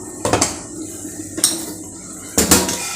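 A lid settles onto a metal pot of chicken biryani cooking in a home kitchen, three separate clanks of metal on metal spaced about a second apart, close and fairly loud with no talking.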